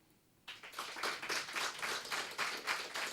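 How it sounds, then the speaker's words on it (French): A small group of apprentices bursts into enthusiastic applause after a brief quiet moment, the clapping nearby, lively and uneven, continuing without letup. "aux sympathiques apprentis que vous allez écouter applaudir à tout rompre"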